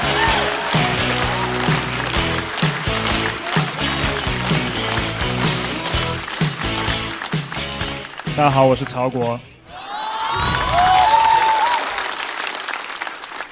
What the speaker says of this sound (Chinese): 掌声欢迎曹国。